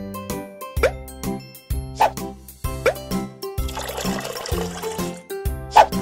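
Bubbles being made in a baby bath in a children's baby care video game: a series of bright cartoon plops and watery pops at an uneven pace over a light tinkling music bed.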